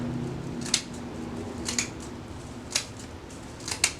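Scissors trimming the tops of a handmade turkey wing handbroom, with about four crisp, separate snips spaced out over a quiet room background and no talking.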